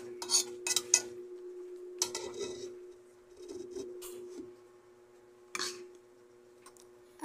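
Clinks and clatters of a lid and dishware being handled while a plate of homemade fried rice is covered, a few sharp metallic taps and scrapes with quiet pauses between, close by with no talk.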